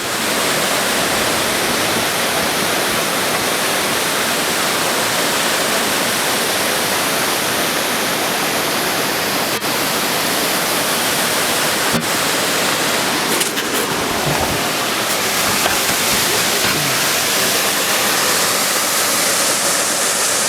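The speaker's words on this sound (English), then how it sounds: "There's the waterfall." Hole in the Wall waterfall roars in a loud, unbroken rush of falling water that fills the whole stretch, close by and with no one talking.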